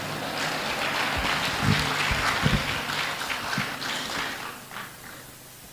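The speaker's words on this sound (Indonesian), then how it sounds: "Sekali lagi kita berikan tepuk tangan yang meriah untuk Pak Anies Baswedan" Audience applause for Anies Baswedan at a talk, a loud, full roll of many clapping hands that holds steady and tapers slightly near the end.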